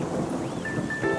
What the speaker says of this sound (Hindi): बिजली कड़क रही है